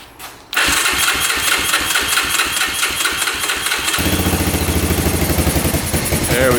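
A Honda 4x4 ATV engine turns over briefly on the starter, then fires and settles into a loud, steady, close-up putter that continues to the end with a slight shift in tone partway through.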